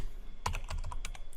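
Close, quick clicks of a computer keyboard as a short command is typed, about eight keystrokes in just under a second, with no talking.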